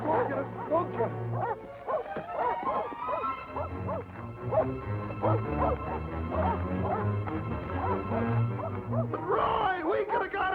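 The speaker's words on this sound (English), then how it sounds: "Turn the dogs loose." Several dogs turned loose in a 1947 Western film chase, yipping and barking excitedly and continuously over dramatic orchestral music, close and fairly loud.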